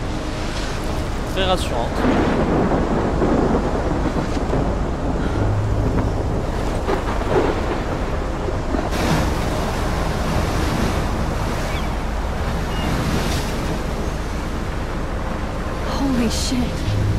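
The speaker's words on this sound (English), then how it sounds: "Une belle tornade bien grosse." A big tornado roars in Life Is Strange, a constant loud rushing wind with surging gusts and debris-like rumbles, while a person talks over it.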